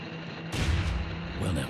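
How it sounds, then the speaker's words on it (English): Explosions rumble through a scene in the Nancy Drew game The White Wolf of Icicle Creek: a heavy blast erupts after a brief quiet, with a deep roaring tail and a second boom following, loud and close. "That was an explosion."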